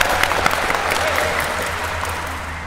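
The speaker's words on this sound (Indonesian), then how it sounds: "Tepuk tangan." Audience applause at a youth gathering, brisk clapping heard fairly close and loud, with a low steady hum running beneath it.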